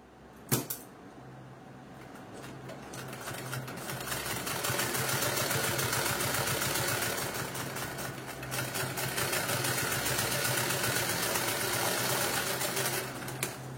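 A sewing machine stitching trousers runs in a continuous close mechanical whir with a rapid rattling rhythm, starting after a sharp click and holding steady throughout, with no talk.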